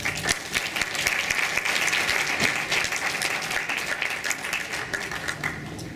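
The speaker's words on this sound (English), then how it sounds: "Let's give her another round of applause." Steady, full applause from an audience at a dental society meeting, continuous dense clapping lasting several seconds at an even level, with no speech over it.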